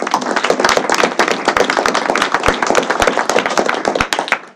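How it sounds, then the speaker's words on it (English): Applause from a seated panel audience at a Minnesota public forum on sulfate, a dense run of many hands clapping close by, steady and loud for several seconds before tapering off at the end. "let's give them one more round of applause"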